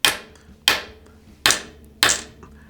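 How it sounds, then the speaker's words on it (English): A hammer strikes a sapphire watch crystal four times at a steady, deliberate pace, each a sharp, bright, close tap that rings briefly before fading. "Let's do a little hammer action."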